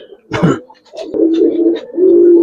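Giribaz pigeons coo close by in a few low, rolling bursts, with a brief rustle or flutter at the start and no talking.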